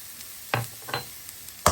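Minced garlic or shallots hitting hot frying oil for a stir-fried chicken and shrimp dish give three short, sharp sizzling bursts, the last one loudest, with quiet gaps between.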